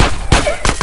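Gunfire in a Grand Theft Auto game, with several loud, sharp bursts of shots close together in quick succession over noisy action.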